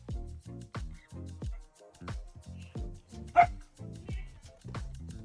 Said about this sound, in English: Oh, the dog is barking.